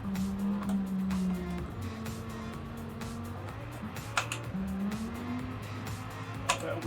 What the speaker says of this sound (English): A bit of wheel spin.